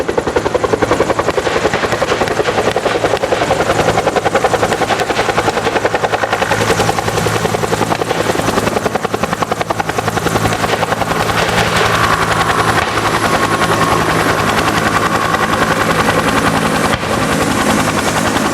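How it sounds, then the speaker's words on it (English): A medevac helicopter at a Vietnam War reenactment, close overhead, its rotor chopping loudly and steadily throughout, with a constant engine whine. "now they call in the medevac helicopter dust off to pick up the wounded"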